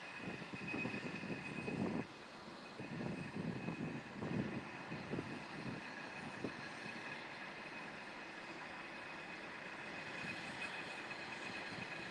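An airplane arriving at Clark Regional Airport in Kentucky gives a faint, distant, steady engine roar that rises slightly and then holds as the plane moves along the runway, with no voices.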